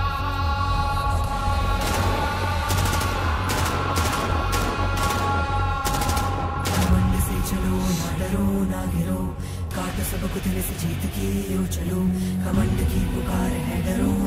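Rapid bursts of military gunfire crack in quick succession, loud and dense through most of the stretch, with sharp repeated reports over a continuous rumbling backdrop.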